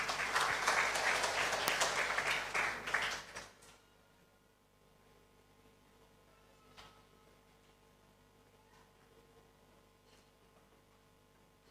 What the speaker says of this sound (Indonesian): tepuk tangan untuk gereja kita